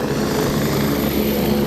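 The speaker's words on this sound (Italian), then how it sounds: "in arrivo l'elicottero con il presidente Zaia" A helicopter carrying the regional president arrives over the Agordino area after the October 2018 flood, its steady rotor and engine drone loud and continuous with no speech.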